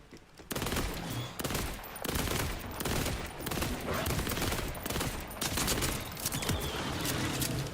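Gunfire in the video game Borderlands 4: sustained loud bursts of rapid shots in a near-constant barrage with brief gaps, close and dominant, no talk.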